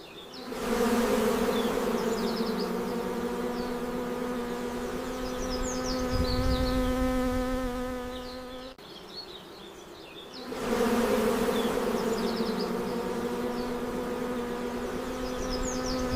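Honeybees buzz steadily around a colony, a loud, close, continuous drone with harmonic whine that dips briefly midway before swelling back to full strength.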